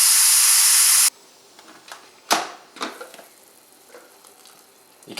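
Steam rushes loudly out of a cooking pot's opened vent for about a second in a hard, steady hiss, then cuts off, leaving faint clicks and handling noises close by.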